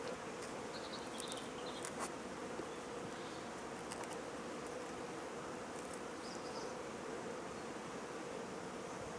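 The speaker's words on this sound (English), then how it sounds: "Oh, there's lots of wasps here." Wasps with a few bees buzzing around a beehive during brood removal, a steady dense drone of many insects close by, with occasional louder fly-past buzzes rising above the hum and no talk.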